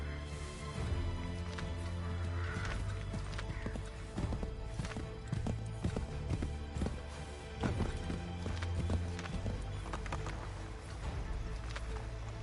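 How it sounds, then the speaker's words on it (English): Horse hooves from the video game Assassin's Creed III clip-clop at a steady pace over a layered musical and ambient backdrop, moderately quiet, with no talking. "Get back on the horse, Connor."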